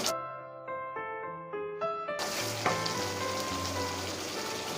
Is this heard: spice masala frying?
yes